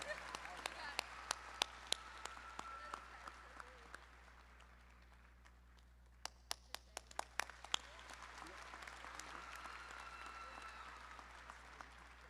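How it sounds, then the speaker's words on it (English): Audience applause fills a summer commencement ceremony, a steady wash of many hands clapping with sharp individual claps standing out. It thins midway, then swells again to full strength. "Please join me in congratulating Alyssa on her exemplary academic achievements with a round of applause."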